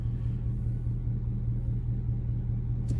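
A Dodge Charger R/T with the 5.7 engine rumbles low and steady on the throttle, a close, continuous engine drone with no talking.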